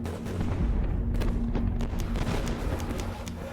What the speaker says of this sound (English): Napoleon gathers every available gun to blast the Austrians, who fall back under a withering barrage.